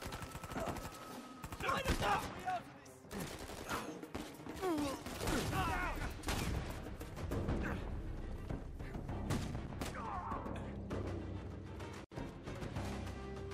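Scattered shotgun blasts and other gunfire in Uncharted 4 during a firefight, fairly quiet and mixed with clattering game effects and a busy background.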